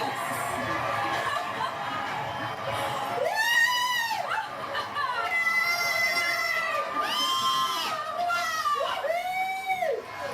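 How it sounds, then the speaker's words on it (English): Crowd gathered for the April 2024 total solar eclipse in the USA, voices rising and falling together in a loose chanted count, with some children shouting and laughter mixed in, fairly distant. "Wow, the crowd is counting down."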